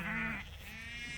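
Sheep bleat on a farm as the flock is moved to a new row; one of them is a ewe with a sore front left hoof. A loud, close bleat comes first, then a quieter, wavering call trails after it, with no talking.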